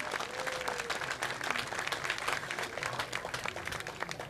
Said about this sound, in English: Bigfoot round of applause